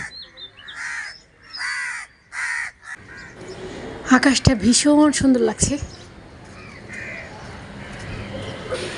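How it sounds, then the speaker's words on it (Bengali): Crows caw at dawn beside the Turag River in Dhaka, a burst of several harsh, close calls in quick succession, with a person talking nearby before and after. "এই যে দেখেন কাকগুলো কীভাবে ডাকছে"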